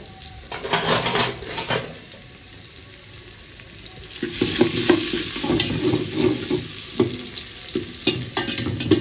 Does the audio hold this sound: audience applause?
no